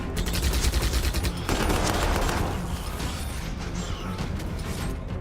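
Gunfire from a Predator tank in the Warhammer 40,000 Armageddon video game, a dense, sustained rattle of rapid shots with mechanical clatter throughout, loud and continuous, with no talking.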